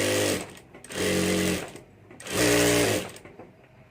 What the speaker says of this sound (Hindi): तो यहाँ ऊपर मैं ये पट्टी के ऊपर सिलाई कर देता हूँ।